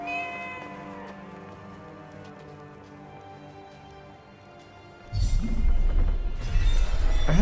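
A cat in the video game Forspoken gives a drawn-out meow over soft game music, followed by a burst of louder rumbling in-game noise.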